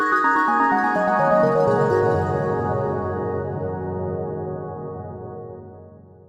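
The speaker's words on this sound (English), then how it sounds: "And in Massive X it sounds something like this." Ambient delay pluck synth patch from Massive X, quick descending plucked notes blurring into a long, warm, fading delay tail, played alone.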